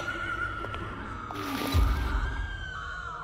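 A horse-like creature in Minecraft lets out a shrill, whinnying neigh that rises and falls over about two seconds, backed by a low rumble and faint game ambience, with no talking.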